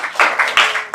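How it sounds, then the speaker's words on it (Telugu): Students applaud in a high school classroom in short, lively bursts of clapping, close and fairly loud, across about a second. "మరి క్లాప్స్ కొట్టండి"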